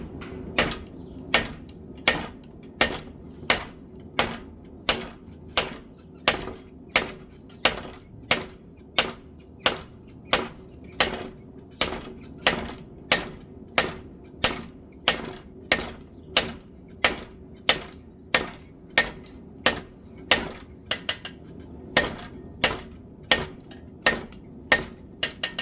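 A heavy 4-pound forging hammer strikes hot steel on an anvil while a katana blade is being forged, about thirty sharp, ringing blows in a steady, evenly spaced rhythm, loud and close.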